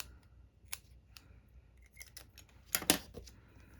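Jute twine is snipped with scissors in a few light, close clicks, the sharpest double snip near the end in an otherwise quiet room.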